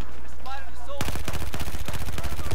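Rapid gunfire in a first-person shooter, starting abruptly after a second of quieter game sounds and then rattling on as a dense, loud burst of close shots until the end.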